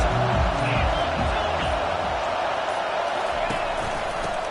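A college football stadium crowd roars steadily in a video game broadcast, the dense cheering holding loud throughout with a commentator's voice over it.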